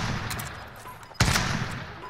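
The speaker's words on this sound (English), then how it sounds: "How the fuck is he shooting through the wall?" Muffled bursts of gunfire come through a wall in the Warzone video game, with a few quick shots and then a sharper, louder burst about halfway through.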